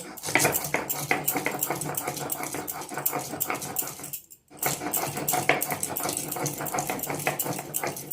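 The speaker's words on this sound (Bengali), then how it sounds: "এবার অল্প অল্প জল দিয়ে সুন্দর করে বেটে নেব।" White mustard seeds ground with a little water on a stone grinding slab, a steady loud rhythmic scraping and rolling that pauses briefly midway before resuming.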